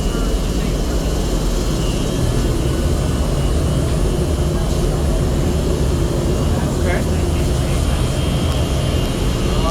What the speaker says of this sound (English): Since this is a blower, you have outputs.